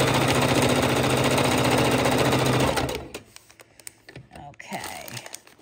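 A sewing machine runs loud and fast through appliqué fabric layered over freezer paper, rattling steadily for nearly three seconds before stopping, followed by scattered handling clicks and a voice.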